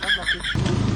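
Motorcycle engine with a broken, snapped exhaust pipe, running loud and raw with a rough low rumble in the second half after a burst of speech at the start.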